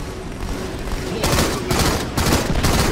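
Bursts of rapid gunfire in a Halo multiplayer match come in loud, dense volleys, with several sharp clusters crowding the last half of the moment.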